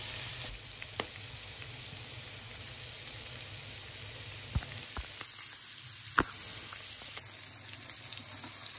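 Hilsa fish frying in a pan of oil, a continuous bright sizzle with occasional pops and sharp crackles, close and steady.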